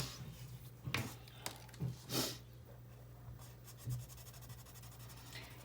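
Yellow colour is scratched onto paper in quick, short strokes, a soft rasping that comes in a few bursts with quiet gaps between, close up and alone.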